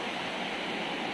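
Steady broadband rush of Bangka Bangka Falls in Pagbilao, Quezon, a waterfall on a river turned muddy after rain, heard as a continuous faint roar with no voices over it.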